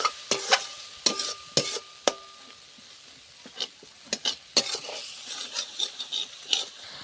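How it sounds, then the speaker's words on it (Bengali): Spice masala frying with ginger-garlic paste in a pan, stirred with a metal spoon: sharp irregular clinks and scrapes against the pan over a faint sizzle, sparse at first and then busier, no speech. "দিয়ে আদা রসুন বাটাটা দিয়ে দেব। দিয়ে নেড়ে দেব। 5-6 মিনিট মশলাটা ভেজে নেব।"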